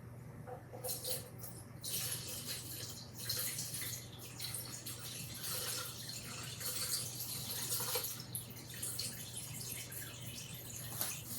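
Liquid pours steadily for a herbal mullein tincture on a hot day with fans running, a continuous trickling splash over a constant low hum, close and moderately loud.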